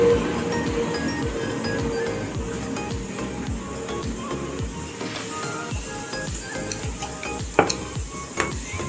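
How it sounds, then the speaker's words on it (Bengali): Oil bubbles and sizzles in a pan heating for frying luchi, a soft steady crackle under repeated rhythmic thuds of dough being rolled nearby, with a couple of sharp clinks of utensils toward the end. "তেলটা ফুটছে।"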